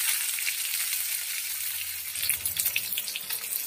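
Raw banana peel paste frying in a pan on a gas stove at medium heat, making a steady close hiss with a soft watery crackle that grows louder and more textured partway through.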